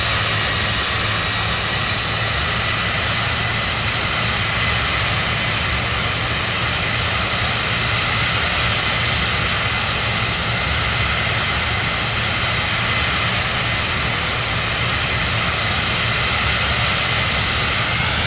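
The jet engine of a Cirrus Vision Jet G2 in the video game Microsoft Flight Simulator gives a loud, steady whine and roar that holds at an even level from start to finish, with no voices.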